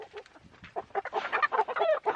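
Several chickens cluck and squawk nearby in quick, agitated bursts.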